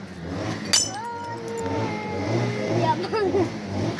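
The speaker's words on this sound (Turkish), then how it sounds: "Cam kırığı buldum. Biraz daha kıracağım." Glass shards are broken in a rainy forest: a sharp crack and then scattered light clinks, with people talking around it.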